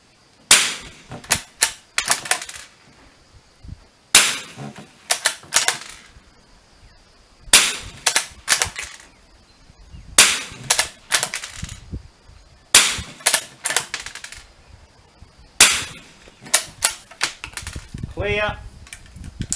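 Winchester subsonic rifle rounds fired through a chronograph, six sharp shots spaced a few seconds apart, each followed by brief action clatter, loud and close.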